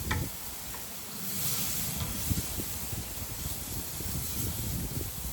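Meat searing in a hot pan for salads, a soft, steady sizzle and hiss at close range with faint stirring crackles, no one talking.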